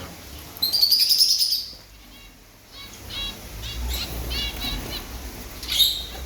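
Bright, high finch chirps in a quick burst, a lull with faint rustling, then another short chirp near the end.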